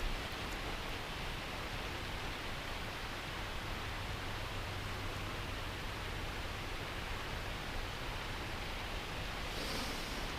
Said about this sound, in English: I was just standing here listening to the waterfall